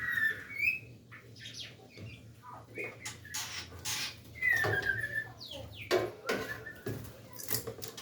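Caged white-rumped shamas chirp and whistle in scattered bright bursts, some near and loud, others softer, with a faint hum running underneath.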